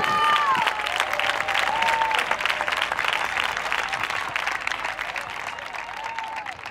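A crowd at a live variety show in Riba-roja de Túria applauds a singer with steady, dense clapping that stays loud and close throughout, with a few whistles or cheers on top.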